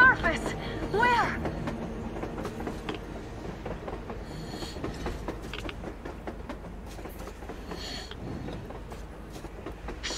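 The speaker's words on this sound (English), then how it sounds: "A train! A damn train on the surface!" A train runs on the surface in the video game Metro Exodus, giving a steady mechanical rumble with faint rhythmic clatter. A voice calls out loudly near the start, and the train continues under the game's ambient sound.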